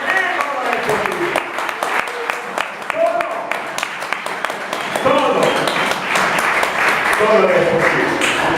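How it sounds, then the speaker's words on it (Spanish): Church congregation applauding during a Spanish-language service, steady clapping from many hands throughout, swelling louder toward the end, mixed with voices and talk. "Denle un aplauso."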